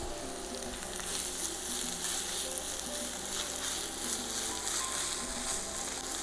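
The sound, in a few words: onion and tomato paste frying in a pan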